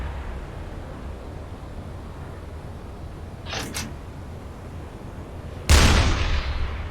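A deck gun on a U-boat fires in a submarine war video game, two quick sharp reports around four seconds and then a louder blast near six seconds, over a steady low engine and sea rumble.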